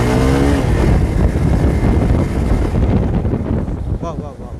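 A BS6 Hero Xpulse 200 motorcycle accelerates from low speed, engine note climbing briefly under heavy wind rush at the microphone, then fading as the bike eases off.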